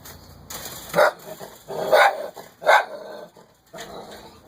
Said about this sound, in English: my chihuahua thinks I'm someone else, she barks at me